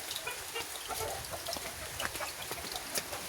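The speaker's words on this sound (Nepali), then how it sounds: "कुखुरा छन्।" Chickens at a rural home cluck softly in a few scattered calls over steady background noise, fairly faint and somewhat distant.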